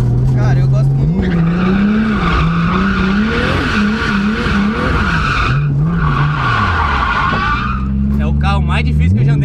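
A car drifts with its engine revving up and down, and loud sustained tire squeals rise and fall as it slides, close and dominant.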